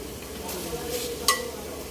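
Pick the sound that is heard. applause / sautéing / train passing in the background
sautéing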